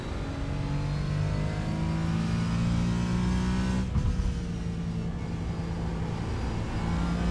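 A car engine held at full throttle drones loudly and steadily with a rising, harmonic-rich pitch, dips briefly as if shifting, then pulls on, with no talking.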